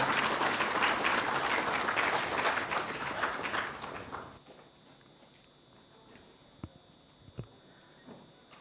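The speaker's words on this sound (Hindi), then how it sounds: "तालियों के साथ स्वागत करें मंत्री महोदय का।" Audience applause at a government ceremony launching a virtual film poster exhibition, welcoming the Minister of Culture, Tourism and Development of North Eastern Region; dense steady clapping for about four seconds, then it stops abruptly, leaving quiet room tone with a couple of faint knocks.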